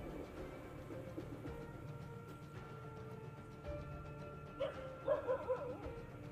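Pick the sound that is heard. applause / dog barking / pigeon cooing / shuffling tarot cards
dog barking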